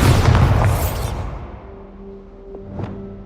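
A Bombarda spell explosion in Hogwarts Legacy detonates as a loud, booming blast that rumbles and fades over about a second, followed by softer magical tones and a short whooshing chime.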